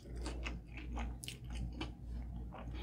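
Close, quiet bites and chewing of a Five Guys double cheeseburger, soft crunches and squishy mastication repeating irregularly over a low steady background hum, with no talk.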